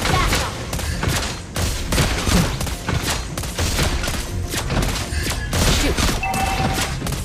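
The hero Lesley fires in a mobile battle video game, producing rapid, dense bursts of gunfire layered with game effects and music, loud and continuous throughout, with a brief voice line mixed in.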